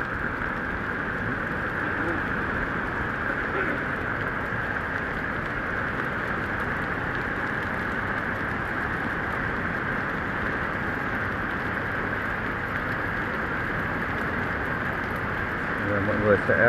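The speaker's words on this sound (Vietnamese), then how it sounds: "Ui mưa to nhỉ." Heavy rain pours steadily at the foot of a hydropower dam during a nighttime search for a drowned angler, a dense continuous hiss filling the scene with muffled voices and bustle underneath.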